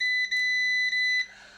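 A multimeter in continuity beep mode while probing an Asus X405U laptop board: a steady high-pitched tone, briefly broken twice, then cutting off, clear and close with no talk.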